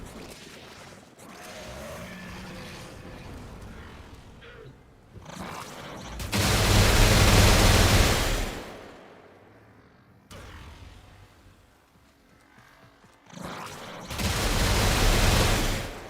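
Explosives detonate in Warframe: two big roaring blasts of broadband noise, each lasting a couple of seconds, with quieter rumbling game sounds between them.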